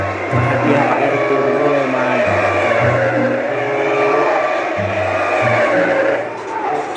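A bus in Bus Simulator Indonesia revs hard at full throttle, its loud engine note climbing and dropping through gear changes across the stretch, steady and close with no voices over it.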